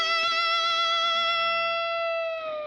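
A single sustained electric guitar note played with a glass slide rings out with slight vibrato and slowly fades, close and clear, with no talking.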